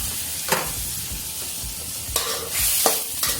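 Shrimp stir-frying in a pan over medium heat, a steady close sizzle broken by a few sharp scraping stirs of the utensil against the pan.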